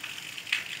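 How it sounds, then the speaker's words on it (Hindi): Rain falling as a steady, moderately loud hiss of water that continues without break for under a second. "अब कहाँ जाएगा, बारिश हो रही है बारिश"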